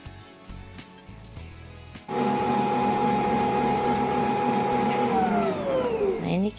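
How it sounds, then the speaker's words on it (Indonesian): An electric mixer whips egg whites at full speed for a zebra cake. Quieter kitchen handling noises come first, then the motor snaps on into a loud, steady whine that holds before dropping in pitch as it slows and shuts off. "Di mix kembali sampai benar-benar ngembang, kental, putih berjejak gitu. Ini kecepatannya aku fullin ya."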